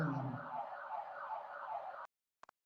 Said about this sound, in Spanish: ¿Puedo continuar o esperamos que apaguen el alarma?